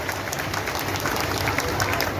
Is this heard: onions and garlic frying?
no